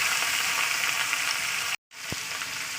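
Sliced bitter gourd, pointed gourd, potato and okra fry in hot oil over already browned onion, giving a loud, steady broadband sizzle that briefly cuts out, then resumes with a soft tap.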